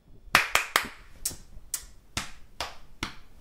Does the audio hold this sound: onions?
no